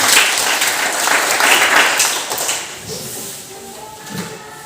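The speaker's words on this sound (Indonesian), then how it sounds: "Tepuk tangan untuk mereka." A classroom of students applauds during a Christian religious education lesson, a loud burst of clapping that gradually thins and fades over several seconds.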